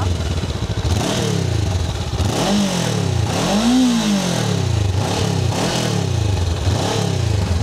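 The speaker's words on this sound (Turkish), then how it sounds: "Bu ses bence 500'lük bir motosiklet için gayet güzel, gayet dikkat çekici." A Honda NX 500 twin-cylinder motorcycle engine revs up and down repeatedly, a loud close rumble with rising and falling pitch.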